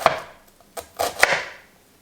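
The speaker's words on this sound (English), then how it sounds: "And then slice your onion." A few distinct knife chops through an onion on a cutting board, uneven in spacing, crisp and close with no talking.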